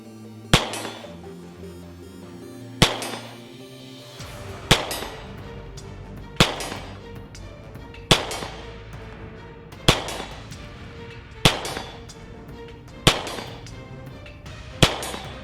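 CZ 2075 D Rami pistol fired at steel about 50 yards away, nine sharp loud shots at a slow, even pace, with echoing tails after each report and no talk.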